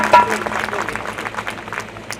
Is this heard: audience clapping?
yes